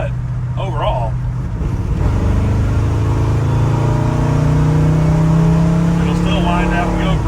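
A 1970 Ford F-100 bumpside with a Crown Vic swap and a hard-built motor running a big cam and a 600 CFM FST carburetor revs loud and close. It holds a steady rumbling idle, then climbs to a sustained high rev.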